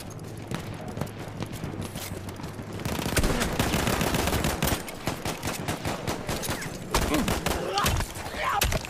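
Automatic weapon and pistol fire in the World War I shooter game Battlefield 1, dense rapid bursts and sharp single shots crackling almost continuously, loud and close, with players talking over the action.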